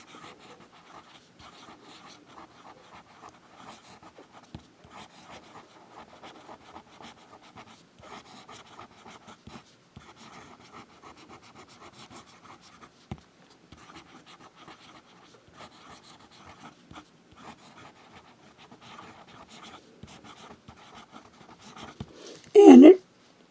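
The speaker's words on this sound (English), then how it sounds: "Now we'll do some writing." A fountain pen with a duckbill gothic nib writes on paper in a long stretch of faint, close, scratchy strokes with brief pauses, and a sudden loud rustle comes near the end.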